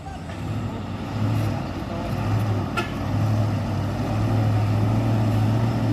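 A military dump truck labors uphill on a steep road, its diesel engine droning low and heavy in a strained, steady rumble with a faint rise and fall, close by and with no other prominent sounds.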